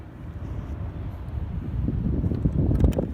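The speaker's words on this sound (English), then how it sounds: "It's really windy, so I haven't recorded much footage today." Strong wind buffets the microphone in a steady low rumble on a fishing trolling outing, swelling louder toward the end.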